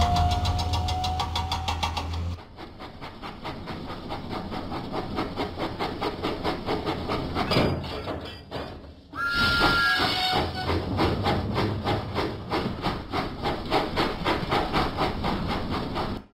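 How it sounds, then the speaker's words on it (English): Thomas the steam engine in a video game, a rhythmic chuffing puff of steam over a rumbling engine, with short steam whistle toots and a brief pause before chugging resumes, steady and close. "Thomas pumped his pistons and puffed out of the docks."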